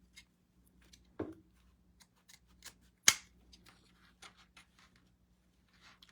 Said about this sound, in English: I'm really struggling with these scissors.